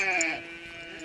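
A sheep bleats once in a long, wavering, fairly close call, with a quieter bleat trailing at the end.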